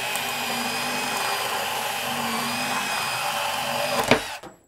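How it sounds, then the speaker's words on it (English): A Milwaukee M12 cordless bandsaw cuts through threaded rod with a steady, close, high whining buzz that holds evenly, then rises to a brief clatter as the cut finishes and the motor stops. "I prefer definitely our M12 bandsaw."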